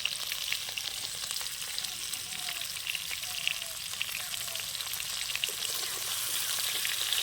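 Shukto vegetables fry lightly in a pan with a steady, soft crackling sizzle like light rain, occasional faint stirring scrapes beneath it, close and low in level.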